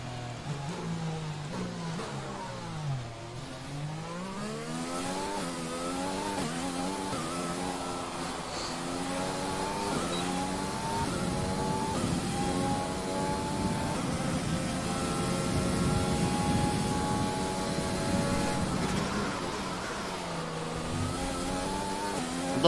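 Formula 1 race car engine from the F1 2020 game on a flying lap, a loud continuous whine that climbs through the revs, drops on each upshift and downshift and surges again, with no talk.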